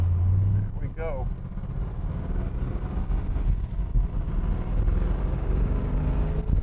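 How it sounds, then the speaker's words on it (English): A 1969 Chevrolet Camaro big block V8 with a Muncie transmission and quiet exhaust idles steadily, a low continuous rumble throughout, with someone speaking briefly over it near the start. "Just love the sound of this big block, baby, even through that quiet exhaust."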